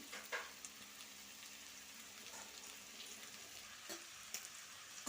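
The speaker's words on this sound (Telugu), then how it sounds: "ఈ క్యాప్సికము ఉల్లిపాయలు తొందరగా సాఫ్ట్ అయిపోతాయండి" Capsicum and onions frying in a pan for a restaurant-style paneer mixed vegetable curry, a steady sizzle with occasional stirring clicks and scrapes, close by and without talk.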